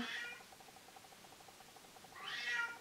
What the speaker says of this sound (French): Elle miaule derrière la porte.